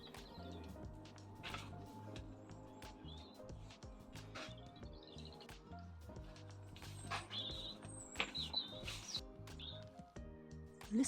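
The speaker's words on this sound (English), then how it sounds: "Listen to the beautiful songs from the birds" Small birds chirp and tweet in short bursts around an autumn garden, the calls scattered over a steady low background hum that runs throughout.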